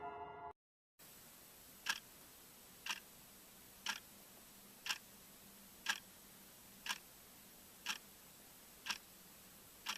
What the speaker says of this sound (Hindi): उसने देखा एक पुरानी घड़ी आवाज कर रहा था।